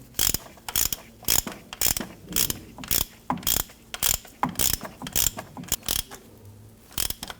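A ratchet clicks steadily while threading an oil pressure switch into a 2017-2020 Hyundai Elantra engine, producing a close, sharp run of evenly spaced mechanical clicks with brief pauses.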